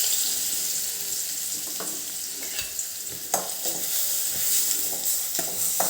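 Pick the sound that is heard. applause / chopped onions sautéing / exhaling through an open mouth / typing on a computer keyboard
chopped onions sautéing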